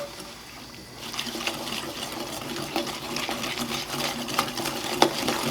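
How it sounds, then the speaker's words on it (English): A slurry with a pinch of salt whisked in a bowl for coconut cream pie, heard as a busy, close clatter of rapid whisking strokes that starts after a quiet second and keeps going; no voices. "we're going to whisk this together until we get a little slurry here."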